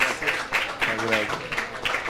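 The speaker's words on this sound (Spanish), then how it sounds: "Un aplauso para nuestros panelistas." Audience applause for the panelists at the close of a Spanish-language science café, a steady patter of clapping running for about two seconds with a voice speaking over it.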